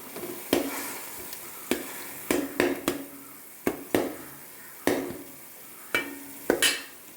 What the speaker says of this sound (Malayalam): വെളുത്തുള്ളിയൊക്കെ ഇഞ്ചിയും കൂടെ എണ്ണയിൽ മൊരിഞ്ഞ് മണം വരുന്നുണ്ട്.